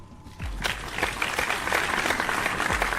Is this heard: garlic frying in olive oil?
no